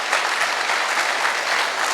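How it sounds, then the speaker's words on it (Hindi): A packed audience gives Alok sir a loud, dense round of applause at a success-themed business seminar, steady and sustained from start to finish with no voices over it. "एक बार जोरदार तालियां होनी चाहिए हमारे आलोक सर के लिए"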